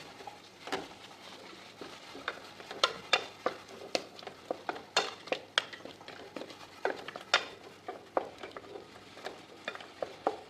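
A spoon stirs chicken curry with tomato and ginger paste in a pan for jeeraka chicken, making close, repeated scraping and clinking strokes in an uneven rhythm over a soft sizzle, with no talking.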